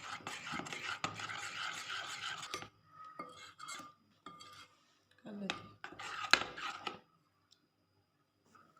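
Yogurt chicken marinade being mixed in a bowl for fried chicken boti, with a spoon scraping and clinking against the bowl in bursts, loud at first then intermittent, separated by short pauses.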